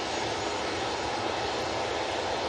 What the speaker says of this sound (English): That Ryanair 737.